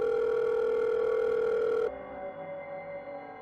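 A telephone dial tone sounds while a call to a cousin is being placed, a loud, steady hum that cuts off abruptly partway through, leaving faint line noise behind.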